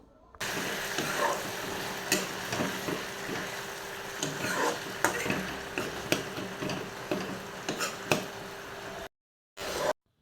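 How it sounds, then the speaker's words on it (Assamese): Potatoes and greens sizzle steadily in a hot pan, with repeated scraping and clicking as a spatula stirs them close by, and the hiss drops out briefly near the end. "এতিয়া ইয়াতে মই অকণমান পানী দি পানীখিনি শুকোৱালৈকে ভাজি ল'ম"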